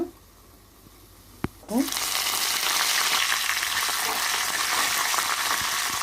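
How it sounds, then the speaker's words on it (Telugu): After a quiet moment and a sharp tap, a loud, steady sizzle erupts as cumin and tempering spices drop into hot oil and keep crackling close by. "ఆయిల్ వేటెక్కిందండి పోపు దినుసులు కాస్తంత జీలకర్ర"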